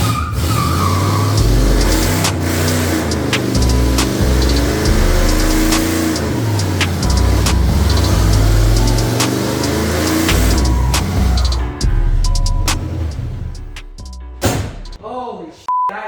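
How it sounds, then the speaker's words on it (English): A V8 Chevrolet K10 truck in worn, clapped-out condition roars through a burnout, its engine revving hard and steady with tire noise, then cuts off abruptly near the end, leaving scattered clatter and voices. "Does it do a burnout?"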